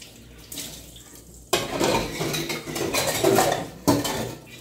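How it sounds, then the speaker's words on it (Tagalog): Dishes clatter and clink under a running tap, water splashing steadily with sharp bursts of plates and cutlery knocking together. "si Ate Saysay palang tagahugas ng pinggan palagi"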